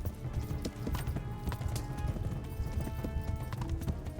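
Horse hooves clip-clopping at a steady running rhythm in a medieval video game, close and continuous.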